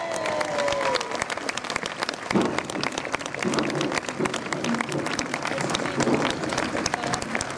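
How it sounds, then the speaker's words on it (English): Spectators at a British Army Royal Engineers bridge building demonstration clap for the sapper team, sharp scattered claps over crowd murmur and outdoor noise, with brief voices mixed in. "Just give them a round of applause."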